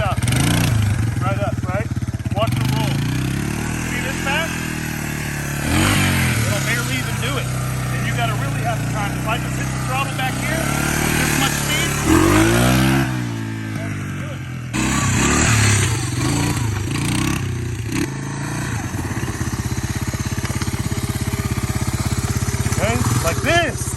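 A Honda ATC 250SX three-wheeler pulls away from a dead stop in first gear, its engine revving up in rising sweeps, then easing and surging again. It sounds loud and close, and someone talks over it at times.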